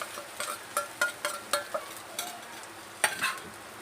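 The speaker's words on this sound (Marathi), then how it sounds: "त्याच्यामध्ये मी हा मसाला वाटलेला आहे आपला आरत भोबडा किंवा जाडसर तो मी ह्याच्यामध्ये परतण्यास टाकणार आहे" Coarsely ground masala tossed in hot oil for sabudana khichdi, a light continuous sizzle punctuated by a rhythmic series of short scraping stirs, a louder flurry near the end.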